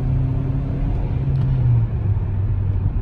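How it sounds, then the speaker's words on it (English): The engine of a 2018 Hyundai Elantra SEL hums and drones loudly from inside the cabin as the car accelerates, a steady low rumble with a rising tone and no talk. "Just gets a little loud when you get on the gas."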